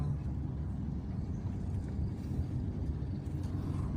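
Slow, congested city street traffic in Banda Aceh, heard as a steady low engine rumble and road hum from surrounding vehicles, continuous and moderately distant without distinct horns.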